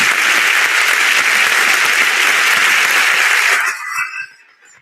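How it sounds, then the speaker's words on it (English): Loud, dense applause from an audience at a youth dialogue event, sustained for several seconds before thinning out into a few scattered claps near the end. "Round of applause."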